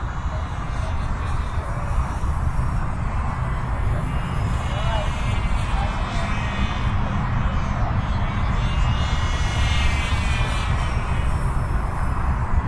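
A Thunder Tiger Mitsubishi A6M5C Zero RC model plane drones steadily overhead on its maiden flight, including some inverted flight, with a continuous engine whine and a voice speaking over it.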